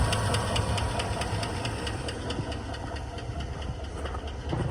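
A Chevrolet Suburban 1500 with a 5.3 V8 idles with a rapid, steady mechanical ticking. The tapping repeats evenly over a rough, rattly engine hum heard up close.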